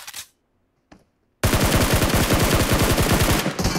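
Automatic gunfire in the mobile game PUBG Mobile, a couple of isolated shots followed by a loud, rapid sustained burst of rhythmic fire, close and with no talk.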